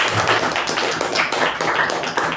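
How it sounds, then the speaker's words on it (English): Applause from an audience at a speaking club meeting after a speech, a dense steady patter of many hands clapping throughout, fairly loud and close. "Big round of applause to you."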